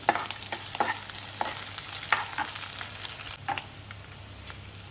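Garlic and green chilies frying in hot oil, a continuous sizzle broken by several sharp spatula clinks and stirring scrapes, close and with no talk.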